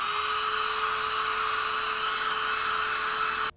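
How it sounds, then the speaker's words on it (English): A hair dryer blows hot air on the tight joints of a Loose Collector Grendel action figure, a close, steady whining rush of air that cuts off abruptly at the end. "definitely you want to hit this guy with the hairdryer"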